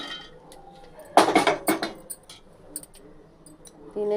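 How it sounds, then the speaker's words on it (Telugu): Roasted peanuts tipped into a steel mixer jar for peanut chutney, a quick rattling clatter of nuts hitting metal, close and fairly loud, followed by a few scattered clinks. "వేయించుకున్న పల్లీలు జార్లో వేసుకుందాం"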